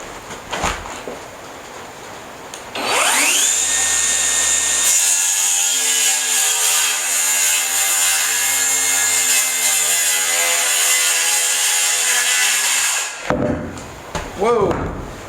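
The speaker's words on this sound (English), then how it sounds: "Brand new Cobalt, I think it's the XTR. Yeah, XTR cordless circular saw." A brand-new Kobalt XTR cordless circular saw spins up and cuts through wood in one smooth, loud, continuous pass of about ten seconds, then winds down with a few knocks afterward.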